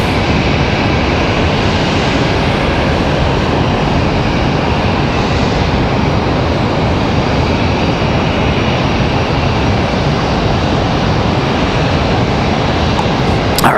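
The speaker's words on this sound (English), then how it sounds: "JetBlue 2285 coming in from JFK, New York." JetBlue flight 2285 from JFK arrives at Raleigh-Durham International, a loud, close, continuous jet engine roar holding steady throughout with no talk.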